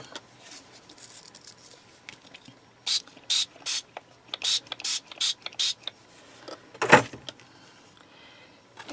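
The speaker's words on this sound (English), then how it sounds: "I'll spray it." Hand pump spray bottle misting water onto wet sandpaper while polishing polymer clay for a necklace: a run of short, crisp spritzes in an uneven rhythm, close and moderately loud, with a louder rustle near the end.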